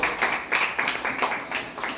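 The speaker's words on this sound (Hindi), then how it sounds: "चलिए एक बार भाभी के लिए जोरदार तालियां बजाइए सभी लोग।" Audience clapping at a public gathering, a brisk crowd applause with repeated swells of hand claps, fairly close and steady, no voices over it.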